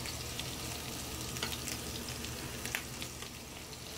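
Bacon, onions and butter saute in a pan with a steady, close sizzle and faint crackles and stirring scrapes throughout, with no voices.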